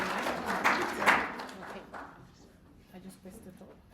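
An audience applauds and cheers for a speaker named Vania at a talk, a loud burst of clapping that fades away over a few seconds.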